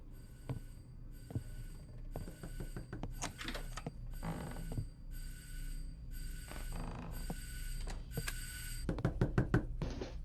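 A ringing bell goes off in an Emika Games puzzle game, with clattering mechanical knocks and clicks around it and steady game music underneath, all at a moderate level.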